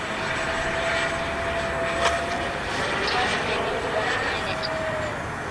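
A Freewing twin 64mm electric ducted-fan F-14 Tomcat RC jet roars steadily at full throttle with its wings fully swept, a continuous loud whine with no pause.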